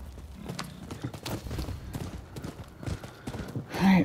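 Horse hooves clip-clopping at a quick galloping pace in the video game Rise of the Ronin, with a brief snort or whinny near the end, no talking.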